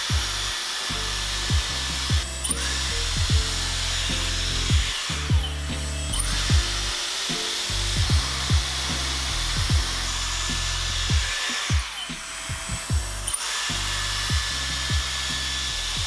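A Dyson Airstrait wet-to-dry hair straightener blows with a steady motor whir. It spins up and cuts out again and again in short bursts, close by.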